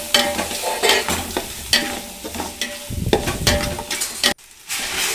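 Tomato and spices fry in a pan for rice pulao while a utensil stirs them, giving a continuous sizzle broken by repeated scraping and clinking strokes, close and fairly loud, with a brief silent gap near the end.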